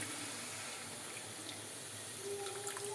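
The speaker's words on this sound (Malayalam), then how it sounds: "നമുക്കിനി ഇതിലേക്ക് വേവിച്ച് വെച്ചിട്ടുള്ള ഗ്രീൻ പീസിൻ്റെ കുറച്ച് വെള്ളം ഒഴിച്ച് കൊടുക്കാം" Boiled green pea water is poured into a simmering hotel-style vegetable kurma, a faint, steady liquid pour and bubbling heard close and quiet.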